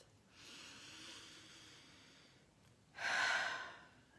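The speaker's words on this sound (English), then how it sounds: "Let's take a breath." Close and soft, a person draws a slow, deep breath in through the airway, pauses, then lets out a stronger, breathy exhale, in a quiet setting.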